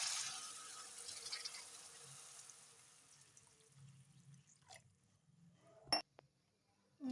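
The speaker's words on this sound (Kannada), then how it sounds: "ಇದರಲ್ಲಿ ನೀರು ಹಾಕ್ತಿದ್ದೇವೆ." Water pours steadily into a pot for egg sambar as a soft, rushing stream over the first few seconds, then fades to quiet with a brief clink near the end.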